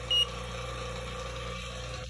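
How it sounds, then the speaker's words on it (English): A Fieldpiece vacuum gauge alarm sounds one short, sharp beep at the start during an HVAC vacuum decay micron test, then a low steady mechanical hum continues alone. "turn my alarm on,"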